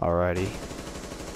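Gunfire in Rainbow Six Siege, a burst of shots in the opening moments followed by a dense, ongoing rattle of game noise, with a player speaking briefly over it.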